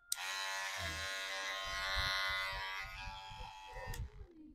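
Electric hair clipper running steadily with a constant close buzz, a rather noisy budget unit, with some faint handling clicks and rustle toward the end.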